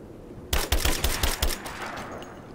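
Gunfire hits a sturdy barricade in Rise of the Tomb Raider, a rapid burst of about six sharp, loud shots in quick succession, followed by a fading rattling tail.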